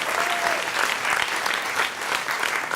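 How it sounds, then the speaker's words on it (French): Audience applause at a French public research showcase event, a steady dense clapping from a crowd filling the room without pause, close and fairly loud. "Sous l'applaudissement, s'il vous plaît."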